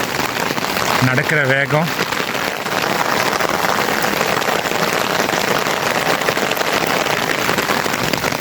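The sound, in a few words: heavy rain falling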